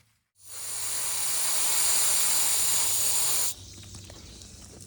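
Backpack sprayer lightly misting sunflowers in a dove field, a steady loud hiss of spray that starts after a brief silence, holds for about three seconds, then drops to a quieter residual hiss.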